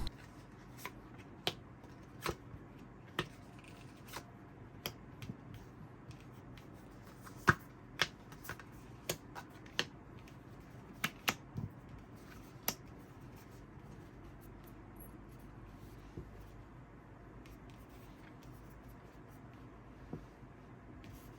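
Tarot cards being shuffled and drawn by hand, heard as a steady run of crisp, close card flicks and snaps spaced through a quiet room with no talking.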